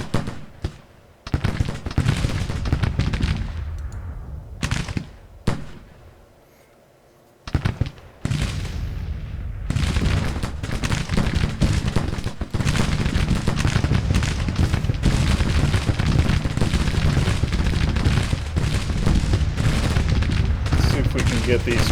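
Civil War artillery battery firing in the strategy game Grand Tactician: Civil War: heavy booming cannon shots and crackling volleys, a few separate blasts early, then a dense continuous roar of massed fire, with a voice talking over it.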